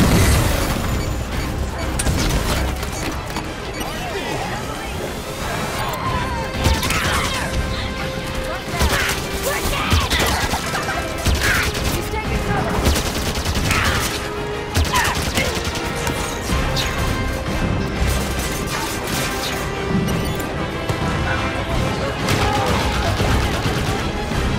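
Covenant turret and cannons fire in Halo 5's campaign, producing repeated crashing blasts and bursts of gunfire over a dense battle din. Voices are faintly mixed into the action.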